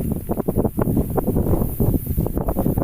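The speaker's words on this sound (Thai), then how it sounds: "โอ้ยเสียงลมวุ่นวุ่นเลยพี่น้องเอ้ย" Strong outdoor wind gusts buffet the microphone in rapid, uneven rumbling bursts during an outing to set frog hooks, loud and close, with no speech.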